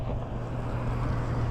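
Wind roars against the microphone on a bicycle ride, a steady low rumbling buffet that stays loud and close for the whole moment with no voices.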